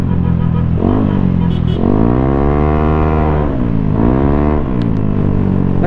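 An Aerox V2 scooter bored to 183cc with a JVT V4 exhaust revs loudly up close, the engine pitch climbing and falling in several sweeps with a smooth sustained buzz between blips.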